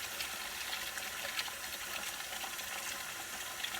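Tap water pours steadily into a basin being filled for washing a human hair wig, a close, continuous gushing splash with no talking.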